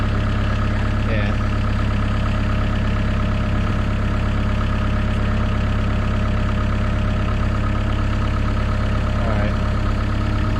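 A skid steer engine idles steadily with a loud, constant low rumble throughout, while a voice speaks faintly over it.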